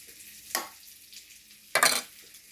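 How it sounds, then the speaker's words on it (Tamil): Mutton fries in a pan with two short bursts of stirring and sizzling, each loud and close, separated by quiet low sizzle, with no talking. "மட்டன் ஃப்ரை ஆகிடுச்சு"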